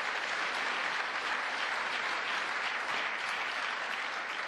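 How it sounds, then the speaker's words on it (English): A large crowd claps steadily, dense and sustained applause at an even loudness from start to finish. "he deserves a round of applause for that"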